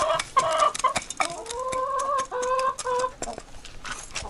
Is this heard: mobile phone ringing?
no